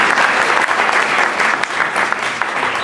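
Full, dense audience applause for a young councillor at a London newspaper launch, loud and steady throughout with no voices over it.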